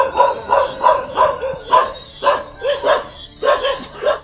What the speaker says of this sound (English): the dog started barking aggressively